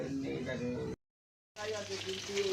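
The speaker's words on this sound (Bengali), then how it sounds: "আমি মাছ ভাজছি" Live fish fries in a pan in a home kitchen, a soft steady sizzle broken by a brief silent gap, with faint voices in the background.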